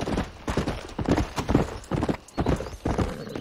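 Horse hooves clip-clop in a steady, close rhythm while riding in Red Dead Redemption, with hoof strikes coming in rapid repeating clusters and a faint whinny.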